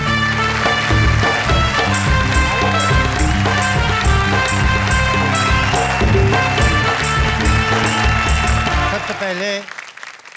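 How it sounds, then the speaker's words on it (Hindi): An audience at a Hindi kavi sammelan poetry recital claps, the applause mixed with tonal stage music and a speaking voice. It stays loud and steady, then tapers off and cuts out at the end. "तालियां बजाइए।"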